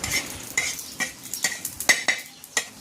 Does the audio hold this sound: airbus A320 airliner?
no